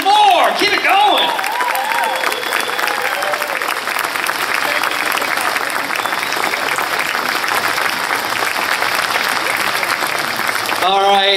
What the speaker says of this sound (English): how about another round of applause for Devin?